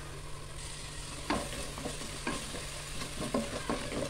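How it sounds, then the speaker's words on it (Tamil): Ground tomato with green chili and chicken masala sizzles in a pan while a spoon stirs and scrapes it, a steady close frying hiss punctuated by repeated scraping strokes. "தக்காளியோட பச்சை வாசனை போகிறது வரைக்கும் நமக்கு வதக்கி எடுத்துக்கலாம்."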